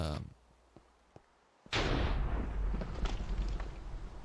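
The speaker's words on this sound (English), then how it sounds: "I'm just hearing explosions." Quiet ticking gives way to a sudden loud Minecraft explosion, followed by a sustained rumbling roar of continuing blasts.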